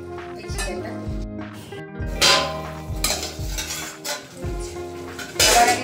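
A metal lid comes off a pot of chicken cooking on the stove, with sharp clanks and scrapes of metal cookware repeating through the passage, fairly loud and close, over a faint simmer.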